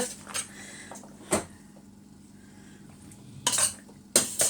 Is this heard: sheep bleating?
no